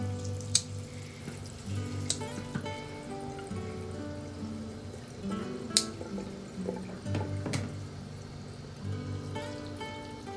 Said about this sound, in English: Turn the water down just a little bit.